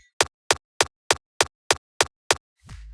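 Click punch layer of a frenchcore kick drum: eight crisp, bright clicking hits spaced evenly in a fast steady pulse, fairly quiet and isolated, ending with a short low rumble.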